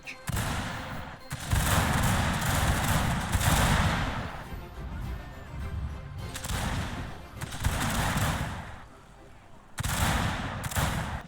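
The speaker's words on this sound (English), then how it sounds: "my troops are moving forward to open fire. They also open fire, but because their guns are from 300 years ago" Troops with centuries-old firearms in a Shogun 2 video game battle fire crackling volleys in several loud waves separated by brief lulls, the shots sometimes far, sometimes close.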